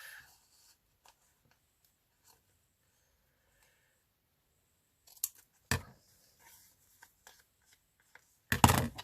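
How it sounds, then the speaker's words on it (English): Scissors trim the edge of a paper book page for a large pocket craft: a few crisp, close snips spaced apart in a mostly quiet room, with a final louder cluster of cuts. "Just going to trim that edge off."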